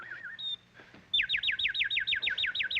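A man whistles imitation bird calls: a warbling trill, a short high note, then a rapid run of about a dozen looping chirps, loud and close, with no talking over it.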